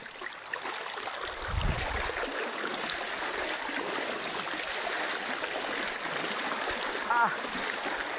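Steady rushing floodwater after heavy rain flows continuously, a broad even roar of moving water with a brief low thump and faint chirp near the end.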